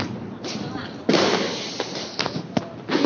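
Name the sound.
fireworks going off around the house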